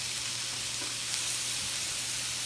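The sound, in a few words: kebabs sizzling as they are turned in the pan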